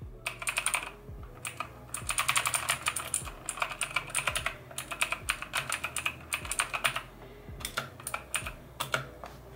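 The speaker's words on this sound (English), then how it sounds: "This is the little sound test when it's on my desk." Steady typing on a cheap $15 full-size mechanical keyboard sitting on a desk, with rapid clacking keystrokes in bursts and brief pauses, close and clear, with no talking.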